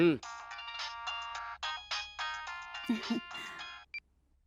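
A phone ringtone plays over speakerphone, a steady repeating electronic melody of bright tones with short gaps, with a brief voice partway through and a single chime at the end before silence.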